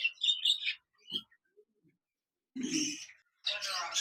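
A pair of English budgerigars gives short, bright chirps in close, separate bursts with quiet gaps between them, heard alone.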